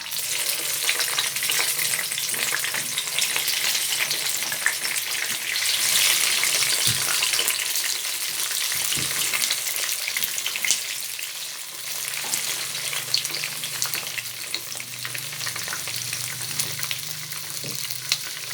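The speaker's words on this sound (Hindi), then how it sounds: "हम फ़िश को फ्राई कर लेंगे।" Fish fries in hot ghee in a kadai, giving a loud, continuous hiss and bubbling sizzle up close that shifts slightly as pieces are moved, with no talking.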